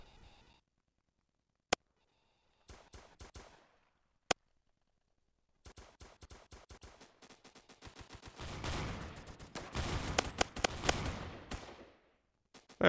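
Frag grenade blast and gunfire in a shooter video game: isolated sharp cracks early on, then a dense stretch of rapid shots and rattling bursts building toward the end, with no talk.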